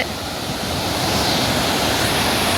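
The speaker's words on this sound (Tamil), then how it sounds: "தண்ணி நல்லா ஊற்றுது பாருங்கள்" Water pours and gushes at Veerapandi, a loud, steady roar of rushing water that stays constant throughout with no pauses and no voices.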